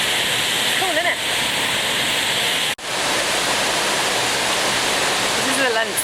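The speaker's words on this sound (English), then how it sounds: "Made it to the Olympus waterfall." The Olympus waterfall in a Costa Rican rainforest roars as a loud, unbroken broadband rush of falling water, with a brief cut partway through and faint speech-like traces near the start and end.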